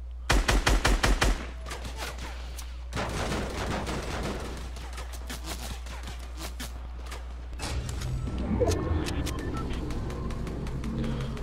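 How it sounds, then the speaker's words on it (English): Opponents fire at the player in a shooter video game, opening with a rapid burst of close, loud gunshots, then scattered single shots and sporadic bursts against a steady background hum. "I know they're shooting at me too."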